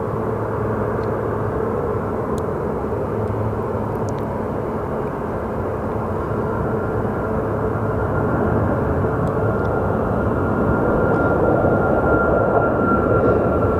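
A Southwest airliner departing Phoenix Sky Harbor Airport for Oakland produces a continuous broad engine roar that holds steady and swells slightly toward the end, heard alone without talk.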